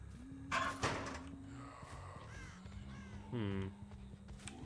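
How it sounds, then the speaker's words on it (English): A crow caws in Dead by Daylight, a few harsh cries set over a low steady hum and scattered game noises, fairly close but quiet overall. "a crow did go off, so let's go that way"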